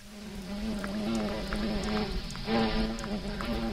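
A bumblebee buzzes continuously and close by as it circles over clover flowers in bad weather, a steady droning hum with slight rises in pitch.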